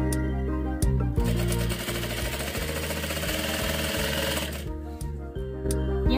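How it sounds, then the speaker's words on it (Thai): A sewing machine runs steadily at close range as it stitches a folded fabric strap for a bow, its fast rhythmic needle clatter continuing for several seconds with brief pauses near the start and end. "พับเนี่ยอย่างนิดๆอะค่ะซ้ายกับขวาแล้วก็ห่อมันเข้าไว้ข้างในแล้วเพื่อนๆก็เย็บ"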